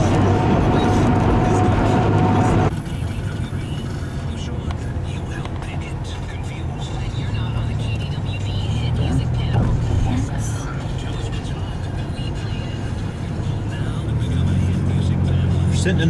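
A car drives along the I-94 highway through St. Paul and Minneapolis: steady road and engine rumble with wind noise inside the cabin, loud and constant, with a heavier burst at the start.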